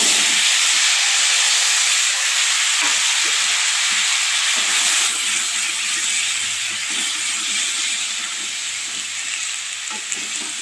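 Chopped winter vegetables hitting hot oil spiced with panch phoron and green chilli, a loud steady sizzle and hiss with occasional stirring scrapes, close and continuous, no voices.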